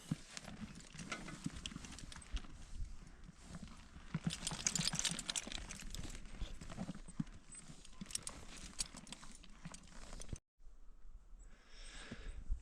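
Horses walk on a forest floor while logging in the woods, their hooves producing soft, irregular clip-clopping thuds nearby, with rustling and a brief pause near the end.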